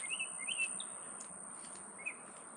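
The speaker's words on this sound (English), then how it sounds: "The birds are chirping." A few bright bird chirps ring out over a quiet, steady background hiss, sparse and moderately distant.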